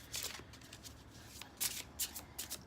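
Tarot cards being handled and shuffled to draw a clarifying card, a few soft riffling and slapping bursts close by in a quiet room.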